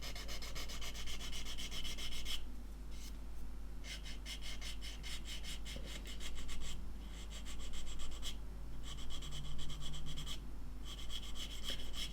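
Fine 240-grit abrasive sanding a glue bead on a 1/72 Arma Hobby Curtiss H75 Hawk plastic model kit, close steady rubbing strokes in bursts with brief pauses between, no talking.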